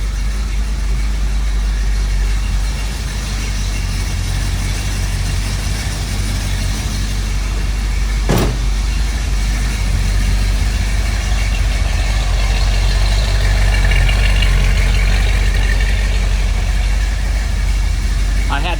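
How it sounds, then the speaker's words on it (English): A 1972 Plymouth Cuda with a 340 V8 idles steadily, a loud, close, deep rumble that holds even for the whole stretch, with one brief sharp click partway through. "That's why I'm started out with the car running."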